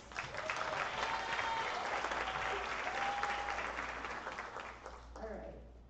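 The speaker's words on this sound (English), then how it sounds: "Can we give Sanaa another round of applause?" Audience applause at a youth pitch competition, a dense steady burst of clapping from the crowd that carries on for several seconds before thinning out near the end, with voices faintly mixed in.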